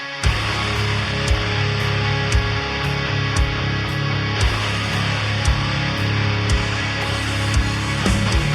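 Electric guitar through a Noise Pollution Pedals Skulldriver modern metal overdrive pedal, heavy saturated chugging palm-muted riff with rhythmic low-end hits and sustained distorted chords, loud and continuous, no talking.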